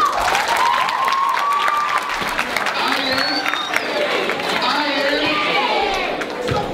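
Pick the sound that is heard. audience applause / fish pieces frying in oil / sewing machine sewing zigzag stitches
audience applause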